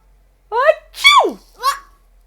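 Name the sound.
voice imitating a sneeze in a read-aloud story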